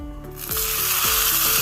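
Raisins dropped into hot ghee with cashews in a pan sizzle up suddenly after a quieter start, a steady close hiss of frying with no one talking.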